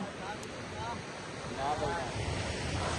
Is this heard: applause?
no